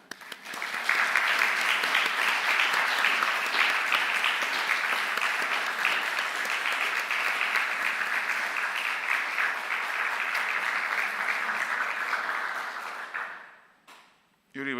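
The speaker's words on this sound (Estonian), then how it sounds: "kui teeme ühe aplausi, mis oleks võimas" A congregation in Kalju church claps in sustained, even applause for about thirteen seconds, then fades out abruptly.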